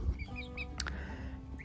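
Lackenwälder hens in a coop make a few faint, brief clucks over a low background murmur.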